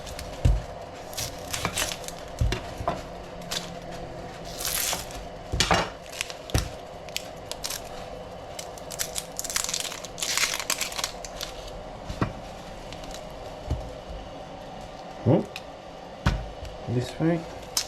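Knife work on onions for a Hungarian potato bake, with irregular clicks and taps of blade and utensils on a board close by, light clatter scattered through the stretch and no voices.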